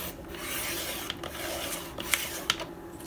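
A paper trimmer slices junk-journal paper with a quiet rasping scrape and a few small clicks and taps, heard close and alone.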